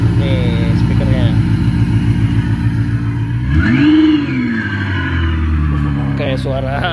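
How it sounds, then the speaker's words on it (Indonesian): A car engine sound played through a speaker on an ice cream seller's vehicle hums at a steady idle, then revs up and falls back down, loud and close, while people talk over it. "Kayak suara mobil."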